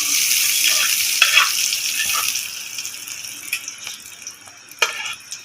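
Egg and bread fry in ghee in a pan, a loud, steady sizzle with a few scraping stirs and crackles, no talk.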